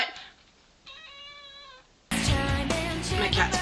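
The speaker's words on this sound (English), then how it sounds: "my cat's meowing. He wants out" A cat meows to be let out, one drawn-out harmonic meow indoors, followed by a louder, dense stretch of sound.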